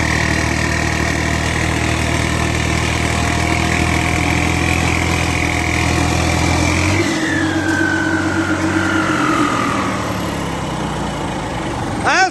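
A turbocharged tractor engine runs steadily in second gear, a loud, close, continuous droning rumble whose tone shifts partway through, then settles as the engine keeps going.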